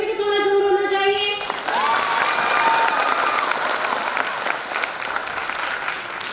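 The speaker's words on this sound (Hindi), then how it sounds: "मगर आपकी तालियों में भी तो थोड़ा जोर होना चाहिए।" Steady audience clapping fills a corporate anniversary-day celebration after a brief sung or musical note at the start, continuing evenly at moderate loudness with a faint crowd murmur beneath.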